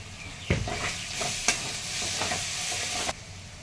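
Okra and potatoes, seasoned with turmeric, red chilli powder and salt, sautéed in a pan: steady soft sizzling with a few sharp stirring scrapes and clinks of a spoon against the pan, close and moderately loud, no talk.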